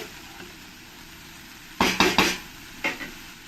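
Shredded cabbage is stirred in a pan, with a quiet background hum broken by four quick clattering scrapes of the spoon in a row and one more shortly after, close and crisp.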